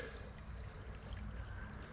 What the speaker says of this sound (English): the water is still running out here